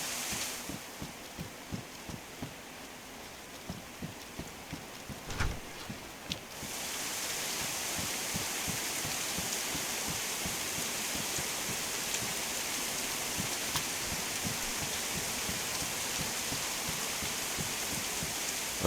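Steady rain hisses throughout in DayZ, with soft rhythmic thumps under the first few seconds before the downpour grows louder and fuller.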